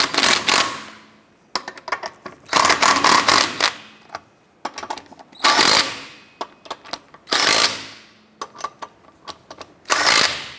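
Lug nuts on a 2006-2013 Chevrolet Impala wheel are run down by a power impact tool in repeated loud buzzing bursts with short rattling pauses between them, close and alone.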